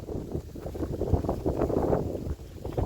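Steady wind gusting and buffeting the microphone beside the Mekong River, a continuous low rumble that swells and dips throughout with no talk.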